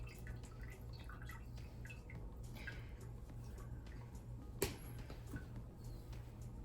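Water drips off boiled pretzel dough in a few soft, scattered drops against a quiet kitchen background, with one sharper tap standing out near the end.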